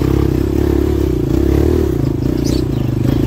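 An MX 250 dirt bike engine labors steadily and loudly up close climbing a rutted hill, a continuous throaty drone with rattling and clatter throughout, no voices.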